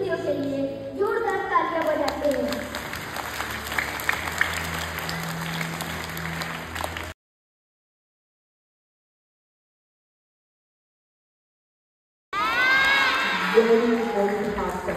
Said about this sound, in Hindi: उनकी प्रस्तुतियों के लिए जोरदार तालियां बजाते हैं